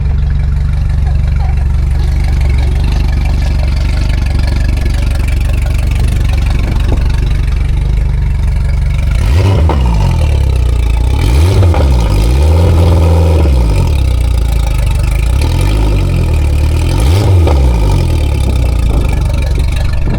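A race boat engine just back running after a fault repair idles loudly and steadily, then is blipped into several short, rising revs, about four or five sharp surges spaced a few seconds apart, very close.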